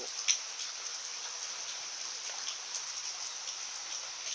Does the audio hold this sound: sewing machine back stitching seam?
no